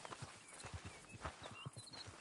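Faint, steady clip-clop of horse hooves walking at an even pace in the video game Red Dead Redemption 2, quiet and with no talking.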